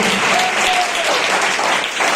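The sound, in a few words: congregation applauding in church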